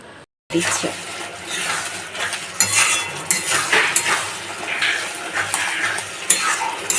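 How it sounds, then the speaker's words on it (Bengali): Spice paste being sautéed in a pan, a soft sizzle with frequent spoon scrapes and clinks against the metal as it is stirred, continuing steadily after a brief silent start. "মশলাটা ভালোভাবে কষিয়ে নিতে হবে যাতে মশলার মধ্যে কাঁচা গন্ধটা থেকে না যায়"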